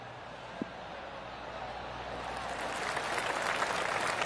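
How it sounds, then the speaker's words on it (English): Crowd applause from a golf video game after a pitching wedge shot, a soft spattering of claps that swells gradually and stays moderate, with a brief tap near the start. "That deserves a golf clap."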